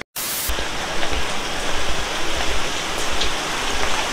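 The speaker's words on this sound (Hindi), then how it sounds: "ये फाउंटेन चलता आवाज आता है, जंगल में जो बारिश होता है, रेन फॉरेस्ट" Water fountains splash in the Saheliyon Ki Bari garden in Udaipur, making a loud, steady, broadband rush like heavy rain that continues unbroken.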